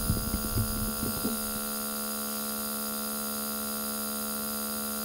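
An ArOmis Solum Lux Eros nebulizing aromatherapy diffuser's air pump drones in a steady, even hum, close and fairly quiet, after a brief bit of handling noise at the start.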